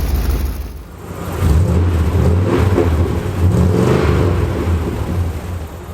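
A pickup truck engine fitted with a new Magnaflow stainless steel exhaust idles with a deep rumble and then revs up in steady, loud throaty pulls, heard close and without talk.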